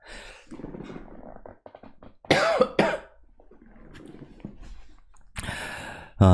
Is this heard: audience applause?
no